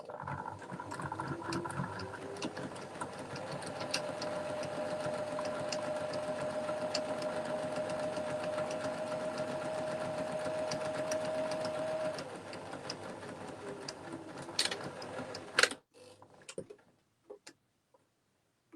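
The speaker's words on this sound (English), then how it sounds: "I'm just going to sew a straight line right down the edge." A sewing machine runs steadily, stitching a straight seam down the edge of fabric for a screen-printed gift bag, its motor whirring with a fast ticking rhythm for about twelve seconds before slowing and stopping into quiet clicks.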